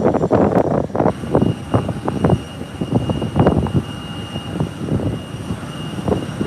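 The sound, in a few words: American Airlines jet airliner taxiing to runway for takeoff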